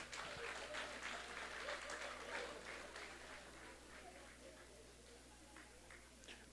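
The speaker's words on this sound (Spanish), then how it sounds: "Un aplauso para Santiago." Faint clapping from a congregation during a Spanish-language sermon, applauding a member. Soft, scattered claps run throughout, with a low hum and murmurs of voices beneath.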